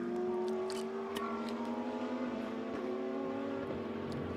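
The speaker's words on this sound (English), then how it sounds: "Downhill again there goes the KTM" A KTM GT2 race car passing downhill at Spa-Francorchamps during a European Series race, heard as a sustained engine drone with steady harmonic tones and shifting pitch, faint and distant.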